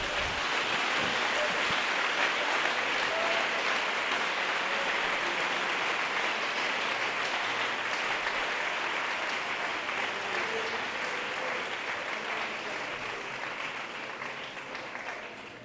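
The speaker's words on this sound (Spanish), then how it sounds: "Dele un aplauso al Señor." Congregation applauding in church, a dense, loud and continuous wash of clapping that carries on steadily and fades slightly toward the end.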